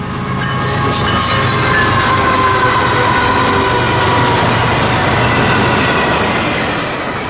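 A southbound FEC freight train carrying containers, piggyback and mixed freight rolls past close by in Florida, loud and sustained, with rumbling wheels, rhythmic clatter and metallic squeals.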